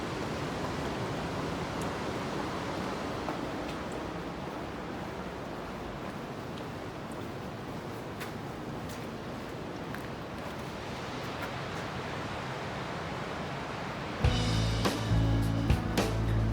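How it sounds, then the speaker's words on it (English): Steady broadband rush of the Ten Mile River flowing beneath Bull's Bridge, a covered bridge, continuous and fairly close, with a brief louder rustling disturbance near the end. "Got the 10 Mile River running underneath."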